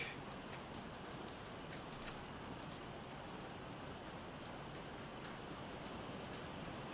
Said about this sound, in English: And it just started raining very loudly.